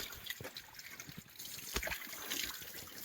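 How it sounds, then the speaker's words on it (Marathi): A small spring trickles over rocks on a mountain fort trail during monsoon rain, a faint, close, continuous burble of running water with small irregular splashes and no speech. "हा छोटासा झरा"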